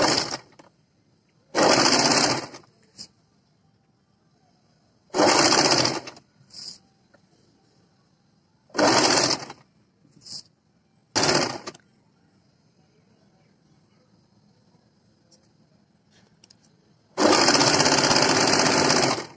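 A sewing machine stitches a strip onto the back neck of a kurti in several short, loud, rapid bursts separated by silent pauses, with a longer run at the end.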